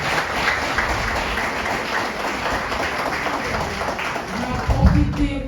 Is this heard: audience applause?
yes